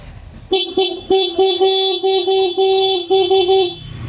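A stock Senlo M5 Plus motorcycle horn honks in a rapid series of short, nasal toots, close and loud, stopping after about three seconds.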